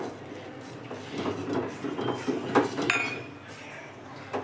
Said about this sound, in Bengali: চাল গুঁড়িটা কিন্তু আমি মেশাবো আর নাড়াবো, একবারে মিশিয়ে দেবো না।